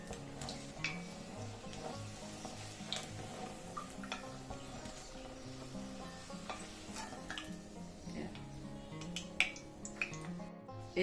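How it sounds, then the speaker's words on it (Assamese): Puris frying and puffing in hot oil, a low, continuous sizzle with small stirring clicks and taps, close by under a steady tonal background sound. "মই এনেকুৱাকৈ গোটেইখিনি পুৰিয়ে ভাজিম এখন পুৰি ধুনীয়াকৈ ফুলি উঠছে আৰু গৰম তেলত দিলে কিন্তু ফুলি উঠে পুৰিবোৰ"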